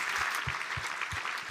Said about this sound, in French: On peut les applaudir. You can give them a hand.